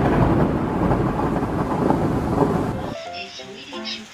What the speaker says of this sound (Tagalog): umuulan talaga eh